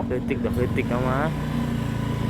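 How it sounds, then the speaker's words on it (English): A small 125cc scooter engine runs with a steady low hum beneath people talking nearby. "Sounds like 125 cc's"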